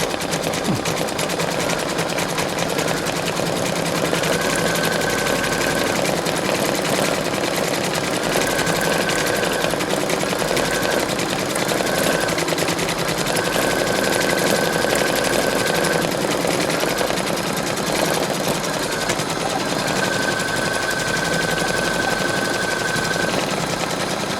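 A Brother Innov-is 2800D sewing machine runs continuously at a steady, fast mechanical rattle, close and alone, with brief higher whining tones coming and going.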